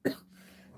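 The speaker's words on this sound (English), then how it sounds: "Excuse me, coughing." A single short cough from a woman making a fold-flat gift box, one sharp burst at the start followed by quiet room tone.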